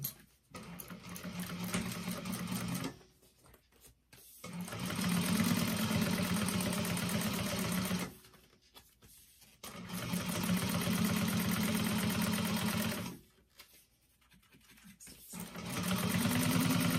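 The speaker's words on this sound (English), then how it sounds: "we want to top stitch, making sure the seam is pointing up towards the lining top panel" A sewing machine top-stitches a tote bag, running in three long, steady, fast-stitching bursts separated by brief pauses, close and alone with no talking.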